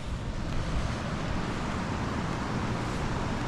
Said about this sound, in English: the little river over the other side sounds quite heavy